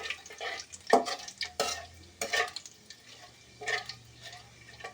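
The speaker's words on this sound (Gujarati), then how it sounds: "હવે આપણે ખડા મસાલા એડ કરી દઈશું અને આપણે એને હલાવતા રહીશું" Whole spices stirred in hot oil for a chicken curry, heard as intermittent scraping strokes of a spoon in the pan over a faint low sizzle, close by with no talking.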